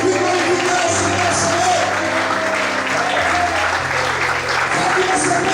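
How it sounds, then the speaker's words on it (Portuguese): A church congregation applauds in praise to the Lord during a sermon, with loud, continuous clapping that holds steady while sustained tones and voices ring through underneath. "Será que você pode aplaudir e glorificar o Senhor?"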